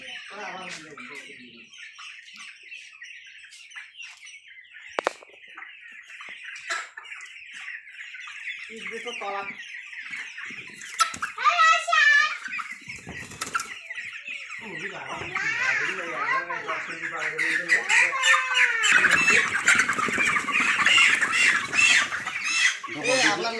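Farm chickens being rounded up into one spot before sale cluck and squawk in bursts, growing louder and busier toward the end, with children's voices and other people talking nearby.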